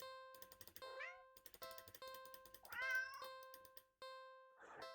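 A cartoonish cat in the video game Do Not Take This Cat Home gives two clear meows and a softer third one over looping game music with sharp electronic tones, close and clean, no speech.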